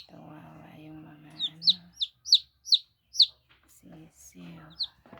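Young chicks, about a day old and without a mother hen, give a series of high, sharp peeps in a rhythmic sequence, while a person talks quietly under and between the calls.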